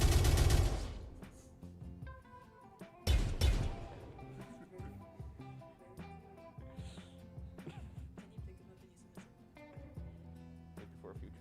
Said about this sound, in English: Josh, stop shooting the objective.